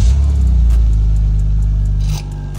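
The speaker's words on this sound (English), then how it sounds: "a couple clips of what the valve system sounded like before I removed the vacuum line to the valve system" Exhaust of a BMW E46 with its stock valve system still working, a loud, close low engine drone that holds steady, then drops off sharply near the end as the revs fall.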